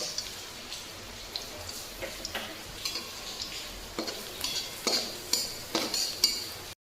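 Cumin seeds go into browned onions frying in a pan, with a soft constant sizzle and light stirring clinks, and the crackle grows louder toward the end.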